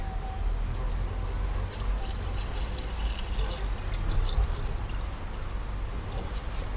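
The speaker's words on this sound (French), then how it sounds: "procédons au remplissage de la vase d'expansion" Coolant poured steadily into a car's cooling-system expansion tank, a continuous liquid pour heard up close with faint splashing and no talk.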